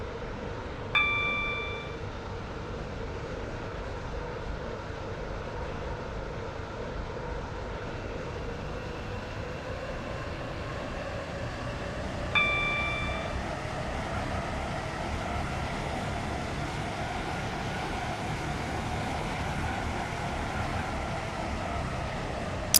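Metro train in the Stepford County Railway video game, a continuous steady rolling drone with two brief chime tones early and midway, no talk.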